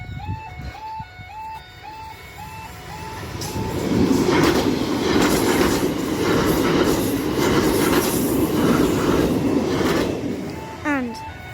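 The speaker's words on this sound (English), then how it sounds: "There goes the train into the distance." A train runs through a level crossing in Essex as the warning sounder beeps in a steady repeating pattern, then the rumble of wheels grows loud and close with clacks and squeals before easing off. People talk over it.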